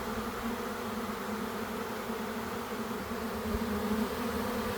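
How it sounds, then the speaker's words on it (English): A large honey bee swarm fills the air with a steady, dense buzz, many insects droning together close by without a break, with a faint low thump near the end. "the air is just filled with bees. Seems like a big swarm."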